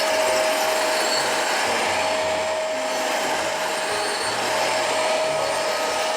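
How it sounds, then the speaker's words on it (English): A Eureka AirSpeed One bagless vacuum cleaner runs steadily throughout with a constant whine and rushing airflow, plus occasional low rattling bumps. "It doesn't seem to vacuum very well, in my opinion."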